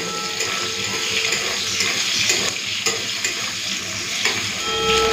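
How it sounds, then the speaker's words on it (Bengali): Chopped onion fries in hot oil, a steady loud sizzle with occasional scraping stirs of a spatula in the pan, alone without talk. "পেঁয়াজটা হালকা ভেজে নিয়েছি"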